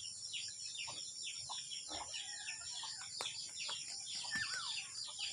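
Chickens cluck in short bursts amid a busy chorus of chirping birds and rooster-like calls, with steady background noise throughout.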